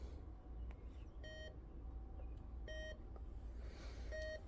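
An electronic device powering up gives a short series of clean tonal beeps, spaced apart and rising in volume, faint over a low background hum.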